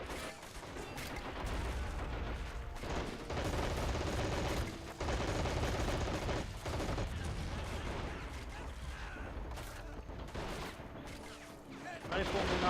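Soldiers fire rifles in the strategy game Men of War: Assault Squad 2, with repeated sharp shots over a dense, continuous battle din that keeps going with no clear pauses.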